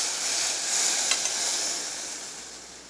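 Chinese-style soy sauce simmers and sizzles steadily in a pan, a soft continuous bubbling hiss with a few faint stirring clicks, close and alone.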